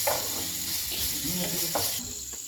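Onion frying in a pan with a little salt, turning golden brown while being stirred; a steady broadband sizzle runs throughout, close and fairly loud, with occasional stirring scrapes and clatter.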